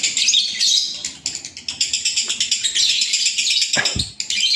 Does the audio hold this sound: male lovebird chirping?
yes